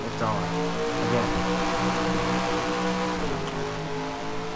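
Race cars in a stock car racing video game at Loudon launch at the green flag, a dense, continuous roar of many engines revving up together, loud and close, with a commentator talking over it.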